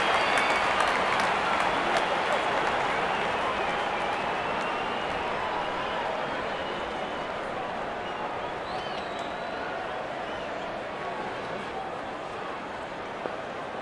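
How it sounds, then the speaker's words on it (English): A crowd at a Pakistan versus India ODI cricket match in a London stadium applauds, a dense sustained wash of clapping that fades gradually, with a commentator's voice faintly present. "There's such a wonderful crowd in to watch their favorite players."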